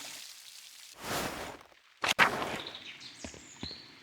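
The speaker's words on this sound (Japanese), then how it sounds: "嵐が近づいてるから雨が降っているよね。" Soft rain patters in a game courtyard as a storm draws near, with a brief clatter and light footsteps, all faint and without talk.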